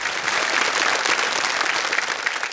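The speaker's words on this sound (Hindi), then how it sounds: "एक बार तालियां बज जाए इनके लिए।" Studio audience on a Hindi quiz show bursts into dense, even applause, loud and sustained for the whole stretch with no speech over it.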